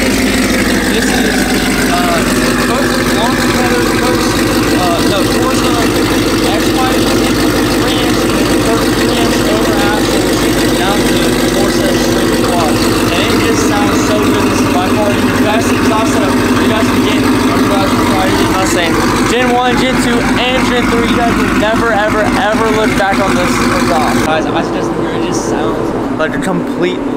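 A Gen 1 Coyote V8 idles through its exhaust, a loud, steady low burble with an echoing rumble that holds for the whole stretch and drops away near the end.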